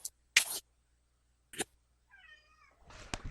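A single soft meow rises and falls after some sharp bumps and rustles, fairly close in an otherwise quiet room.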